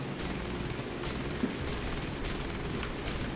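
Aircraft machine guns fire in War Thunder, a continuous dense rattle of rapid shots over engine noise, steady and moderately loud with faint periodic bursts standing out.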